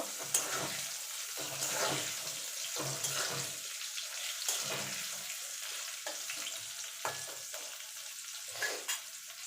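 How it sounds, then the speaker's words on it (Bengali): Potato pieces frying in hot oil with turmeric and salt, a continuous soft sizzle broken by repeated scraping stirs of a spatula in the pan, close and fairly quiet, with no one talking. "আলুটাকে লাল লাল করে ভেজে নেব"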